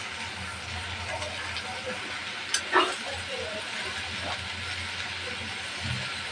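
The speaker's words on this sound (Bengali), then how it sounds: "ভালোভাবে মিশিয়ে নেব।" Okra being fried with shrimp, salt and turmeric in a pan, giving a constant soft sizzle with a few scraping stirs and one brief clatter of the spatula partway through.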